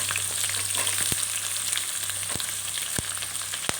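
Chana dal, urad dal and peanuts fry in oil with a dense, steady crackling sizzle, broken by a few sharp knocks of a spoon against the pan, with no voices.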